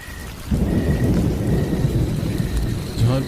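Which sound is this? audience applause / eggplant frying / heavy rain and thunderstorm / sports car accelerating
heavy rain and thunderstorm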